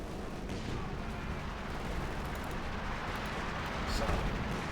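Gunfire in the World War II strategy game Company of Heroes 2, a steady dense wash of battle noise with distant-sounding shots and blasts running throughout, swelling slightly near the end, under a commentator's talk.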